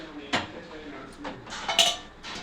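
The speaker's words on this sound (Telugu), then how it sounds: "ఇందులో మూత పెట్టుకుందాం." A lid set down on a stovetop pan of green jowar sarva pindi flatbread gives a couple of sharp metallic clinks, with quieter clatter between them, close by over low kitchen background noise.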